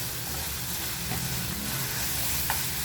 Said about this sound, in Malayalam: നമ്മുടെ തക്കാളി സവാളയുടെ കൂടെ കിടന്ന് നന്നായിട്ടൊന്ന് വഴന്ന് വരണം